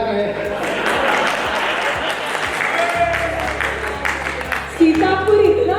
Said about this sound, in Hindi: ये 2 लोगों ने जो तालियां बजाई है